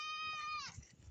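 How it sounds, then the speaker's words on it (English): A goat on a farm, one of several that are sick, gives a single close, wavering bleat that cuts off abruptly, leaving faint background noise. "I figured I'd give it to the sick goats, but they didn't really want much to do with it"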